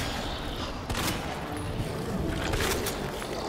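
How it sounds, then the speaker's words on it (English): Heavy shotgun or magnum blasts in Resident Evil 2, a dense, booming volley of close gunshots with sharp bursts standing out over continuous battle noise. "Shotgun time. Or Magnum."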